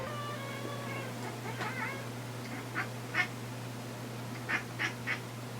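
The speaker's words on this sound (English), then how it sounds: "Do you hear my cat? He's making bloodlust chirps." An indoor cat chirps at prey it sees outside a window, giving a few short, faint chirps in quick clusters over a steady low hum.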